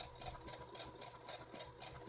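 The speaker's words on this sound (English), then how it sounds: "I love the sound of a sewing machine." A sewing machine runs steadily at close range while stitching quilt pieces, giving a continuous mechanical whir with a soft, regular pulsing rattle about twice a second and no talking.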